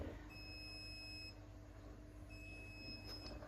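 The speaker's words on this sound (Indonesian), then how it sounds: "lampu nyala mati dan juga buzzer sama, menandakan kondisi ruangan dingin." An ESP32 buzzer signals a cold room with a steady high electronic tone, sounding, stopping, then sounding again over a constant low hum.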